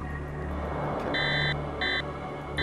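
Video game alert beeping in short repeated bursts, two or three clear electronic tones over a low steady hum, with no one talking.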